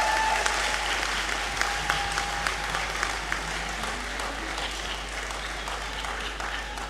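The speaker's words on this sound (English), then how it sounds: "A bigger round of applause." Sustained applause from a large audience at a university congregation ceremony in a great hall, a dense, even wash of many hands clapping throughout, moderately distant, with no talk over it.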